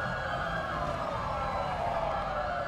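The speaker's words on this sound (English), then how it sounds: "Sirens" Police sirens in the video game Dept. of Justice wailing continuously in a steady high tone over a low rumbling engine, loud and close, with no talking.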